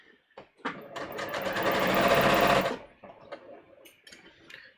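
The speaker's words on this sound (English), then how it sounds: "So like I said, I'm speed sewing." A sewing machine stitches a bodice muslin at speed, running in one loud continuous burst of about two seconds, with scattered handling clicks of fabric and pins before and after.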